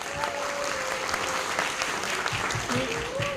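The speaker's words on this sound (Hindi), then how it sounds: "जोरदार तालियां, जोरदार।" Loud, steady applause from a seated audience at a Hindi poetry recital, dense clapping sustained throughout with crowd noise and no one speaking over it.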